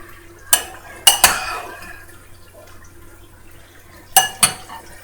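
Utensil clinks and scrapes against a pan as fresh cilantro is mixed into rice, a few sharp knocks near the start and again near the end, with quiet gaps between.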